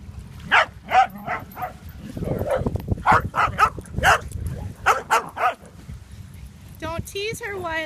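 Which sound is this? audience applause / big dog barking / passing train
big dog barking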